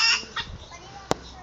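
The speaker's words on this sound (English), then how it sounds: "this one's making a hell of a noise. So there's little chickens in here." Small chickens cluck in an enclosure at a nature reserve park, a few short calls near the start and a sharp click-like peep later, fairly faint.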